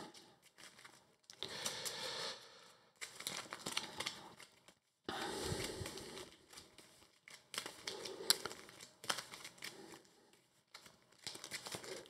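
Arkham Horror card game cards being shuffled into an encounter deck, heard up close as soft, quiet bursts of riffling and crinkly flicks separated by brief pauses.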